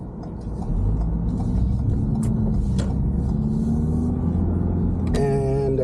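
A steady low road rumble fills the interior of a moving car, with a constant engine and tire drone and a brief faint tonal whine near the end, no talking.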